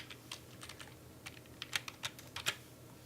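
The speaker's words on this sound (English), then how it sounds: "I have to actually type it myself." Fingers tap a computer keyboard on a Mac, a short run of light, quiet clicks in an irregular rhythm with no talking.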